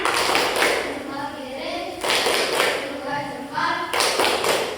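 A fourth-grade class claps through a rhythmic 'tepuk salut' routine, the sharp group claps and taps coming in bursts while the children chant along.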